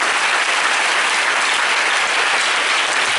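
A church congregation applauding in praise of the Lord during a sermon, dense steady clapping from many hands filling the room without pause.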